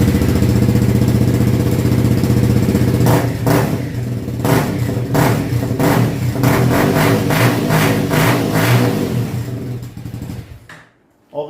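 A Honda CRF 300 L motorcycle with a homemade, shortened and modified exhaust runs close by after warm-up, in a winter setting. It settles into a steady idle, then gives a string of sharp throttle blips before it cuts off.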